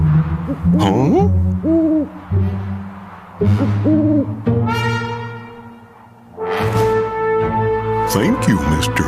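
A cartoon owl gives repeated short, wavering hoots in several bursts, loud and close, with sung or voiced tones mixed in among the calls.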